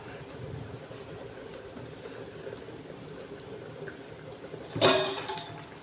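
Rice with a spoonful of ghee boils in a pot, giving a steady, close bubbling hiss throughout and one brief clatter near the end.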